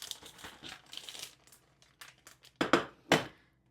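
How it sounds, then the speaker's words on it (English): Plastic Ziploc bag crinkled and rustled while a pound of Angus stir-fry beef goes in, giving scattered soft crackles that build to a few louder, sharper crumples near the end. "Then I have about a pound of Angus beef stir-fry beef. I'm going to add that to a Ziploc bag."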